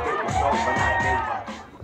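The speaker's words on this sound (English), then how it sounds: "Give him a huge round of applause." A wedding crowd cheers and claps in a loud, dense burst of applause mixed with excited voices, fading slightly toward the end.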